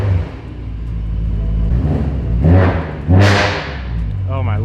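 A supercharged BMW M3 engine revs hard several times, loud deep rumbling bursts rising and falling with a sharp high whine on one rev, close by and with no talk over it.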